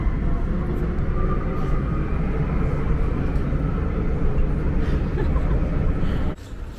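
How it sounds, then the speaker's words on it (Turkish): A loud, steady rumble of a metro train pulling into an underground station, holding for several seconds before cutting off abruptly near the end. "Tren gelecek şimdi."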